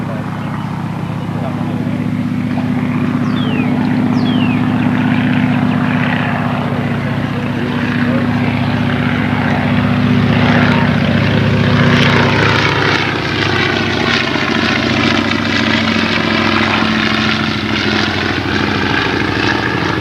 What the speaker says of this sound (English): You can hear the engine now.